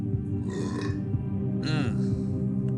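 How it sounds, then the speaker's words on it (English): A man's belch rises out of steady game background sound, a long croaky burp starting near the middle, with a second, shorter eructation following close up. "Uh-oh, got a belch"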